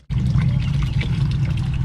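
Water pours steadily into a container up close, a continuous splashing gush starting abruptly and holding at a constant level.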